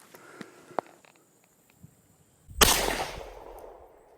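A Marlin Model 45 Camp Carbine fires a single sharp, loud shot after a few quiet clicks of handling, the blast decaying into a ringing outdoor tail.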